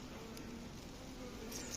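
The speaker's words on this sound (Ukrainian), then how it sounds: "Тут є бджоли вже багатько." Steady, soft buzzing of honey bees around hive frames, a continuous close hum with a few brief higher whines, and no talking.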